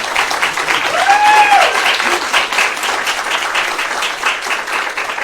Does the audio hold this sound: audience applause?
yes